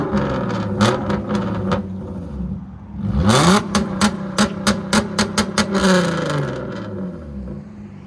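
A Hyundai Genesis 3.8L V6 with a straight pipe exhaust revs hard to warm up, loud and close, with sharp repeated throttle blips, sweeping rises and crackling pops between them.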